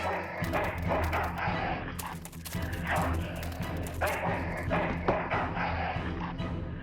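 A dog in the video game Full Throttle Remastered barks and yips in repeated bursts, loud and close, mixed with other game sounds and no speech.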